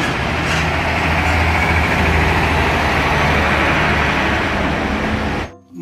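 A toy Pertamina tanker truck's engine hums in a heavy, continuous low drone, close and loud, staying level until it drops away sharply at the end.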